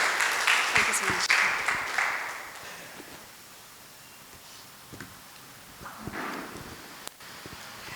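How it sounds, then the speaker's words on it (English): An audience claps in a steady patter that swells at first and then thins out, heard from a moderate distance with some rustling and a few scattered claps near the end. "Can we give a round of applause, please?"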